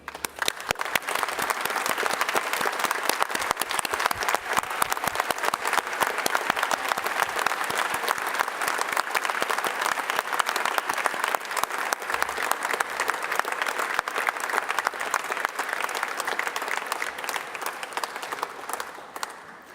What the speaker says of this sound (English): give a round of applause to all of our graduates